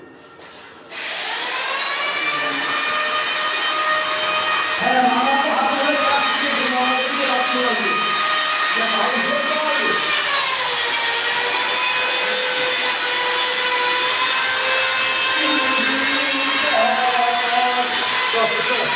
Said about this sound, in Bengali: পালিশ করছে বিশাল